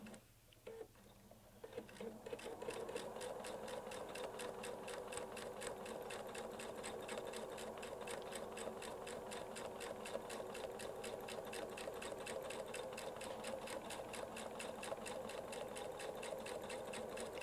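A Weightless Quilter sewing machine stitches curved clamshell arcs across a quilt, a brief start-up followed by a long, even, rapid needle chatter that runs close and constant throughout.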